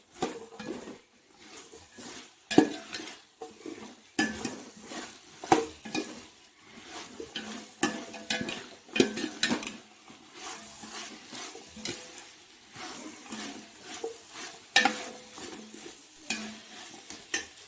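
Vegetables and ginger garlic paste sauté in a pan for vegetable biryani. A spatula scrapes and stirs in repeated bursts, with a soft frying sizzle underneath and occasional metallic clinks against the pan.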